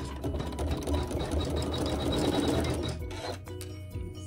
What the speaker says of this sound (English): I'm just going to sew a satin stitch.